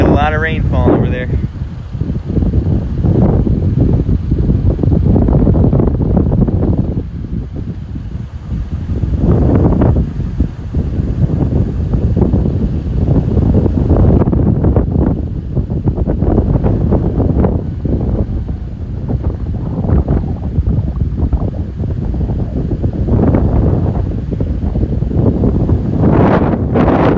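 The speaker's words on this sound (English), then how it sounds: "20 mile per hour gusts there." Strong wind buffets the microphone in a steady, roaring rush with 20 mph gusts during severe weather in Northwest Ohio, while a voice speaks underneath.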